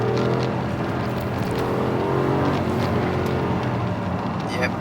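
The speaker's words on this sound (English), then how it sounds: "you get that sort of rumble of like the V8 and the exhaust" Mercedes-AMG GLC 63 compact SUV with a V8 engine, giving a continuous deep exhaust rumble that stays loud and close, with a faint burble near the end.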